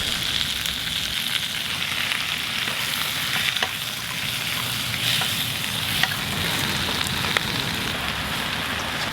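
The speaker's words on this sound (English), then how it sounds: "Give it a good stir, just cook it for about a minute or so." Minced garlic and greens stir-frying in a wok over high heat, a steady broad sizzle with faint scraping of the utensil throughout, close and continuous with no talk.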